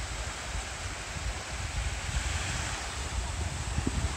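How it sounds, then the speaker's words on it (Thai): Surf breaking on Jomtien beach in Thailand at sunset, a steady soft wash of waves mixed with wind noise on the microphone, fairly faint and unbroken. "เอาบรรยากาศชายหาดจอมเทียนมาฝาก"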